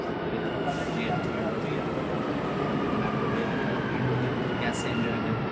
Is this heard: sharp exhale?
no